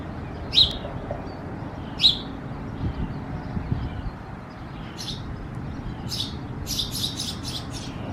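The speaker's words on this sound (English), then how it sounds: "there's a little birdie up there. He was just tweeting at us." A small bird chirps overhead in a park: two sharp, bright chirps a couple of seconds apart, then a quick run of faster tweets near the end, over soft outdoor background noise.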